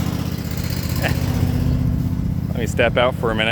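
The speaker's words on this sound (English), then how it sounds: "It's an older riding lawnmower" Older riding lawn mower engine running steadily at a low rumble throughout, with a person talking over it near the end.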